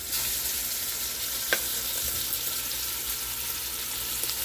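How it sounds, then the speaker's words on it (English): Steady, close sizzling of beef short ribs going into a hot Dutch oven, a continuous hiss with a few small pops, and no voices. "Our Dutch oven has been heating up, as you can hear."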